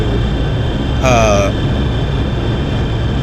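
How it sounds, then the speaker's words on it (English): Engine drone of a Tu-114 airliner in FSX, a steady loud rumbling roar with a layered tonal whine; a brief high whistling tone rises over it midway, and a voice talks over the engine. "the plane does sound kind of angry, doesn't it there, Silent Yuki?"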